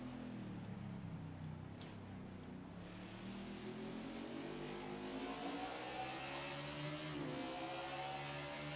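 A race car engine in NASCAR 21 at Sonoma rises and falls as the throttle is feathered, then winds back up in a steady climbing whine. It sits at low level, with no speech.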